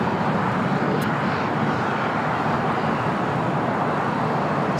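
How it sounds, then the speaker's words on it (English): A British Airways Boeing 777-300ER on arrival at LAX, its engines producing a steady, broad roar that holds constant throughout, with no talk over it. "This is British Airways flight 283 coming in from London Heathrow on a 777-300ER."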